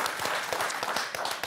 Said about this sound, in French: Applaudissements pour Frédéric et Daniel.